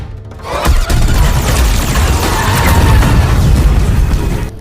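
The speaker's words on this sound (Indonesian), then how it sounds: "Dengan pesawatnya membuat robot itu meledak" A loud, heavy explosive boom that bursts suddenly and keeps rumbling as a dense roar for several seconds.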